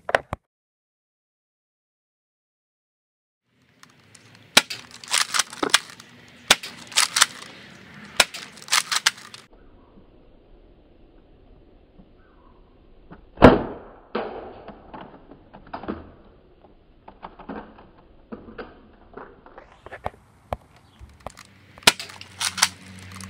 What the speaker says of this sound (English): next we're going to fire a full clip of 12 darts of the normal blue and orange Nerf darts